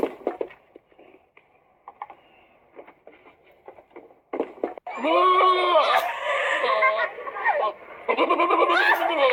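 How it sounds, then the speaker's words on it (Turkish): Bleating from a goat or lamb, wavering and nasal, repeats in loud bursts after some quieter clicks and faint background noise. "Keçi mi kuzu mu?"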